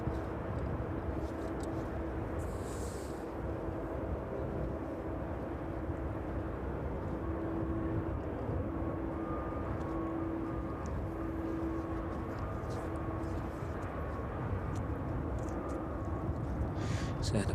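An airliner bound for Cincinnati departs East Midlands Airport in the evening, heard as a steady distant engine roar with a sustained tonal whine over constant wind noise.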